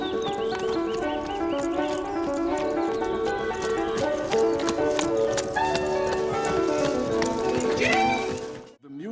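A horse's hooves clip-clop in a quick, steady beat, with a brief whinny, all under a swelling orchestral score until it cuts off near the end.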